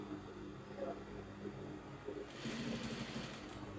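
A sewing machine stitches fabric for princess-dart bustier padding, a quiet continuous whirring hum that grows slightly louder near the end, with no talking.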